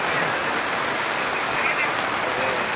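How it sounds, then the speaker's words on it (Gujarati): Steady rain pours down in a constant dense hiss with droplets pattering on surfaces, loud and close throughout. "વરસાદ બંધ થવાનું નામ લેતો નહીં, ચાલુ જ છે"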